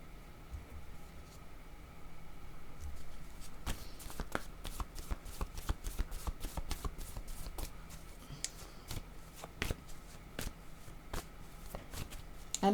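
Cards shuffled repeatedly for a card reading, a steady riffling with sharp snapping bursts in quick clusters, close and fairly quiet over a faint hum, with no talking.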